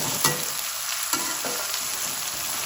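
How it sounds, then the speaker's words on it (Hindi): Ginger garlic paste frying in a pan for dhaba-style chana dal, a steady close sizzle with a few sharp stirring clinks, no voices. "अब यहाँ पे खाने का 1 बड़ा चम्मच अदरक लहसुन का पेस्ट ये डाल देंगे।"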